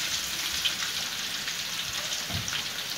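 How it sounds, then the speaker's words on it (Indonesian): Sliced shallots sizzle in hot oil in a pan, a steady close crackle with scattered pops, heard alone and continuous throughout. "Jadi kita menunggu goreng bawang sampai beraroma wangi dan berwarna kuning ya teman-teman."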